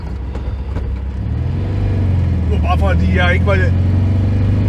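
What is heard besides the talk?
VW 1200 engine knocking in wrong gear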